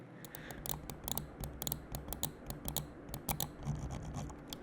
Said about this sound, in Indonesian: Nih, buat suara kliknya yang kayak gini nih.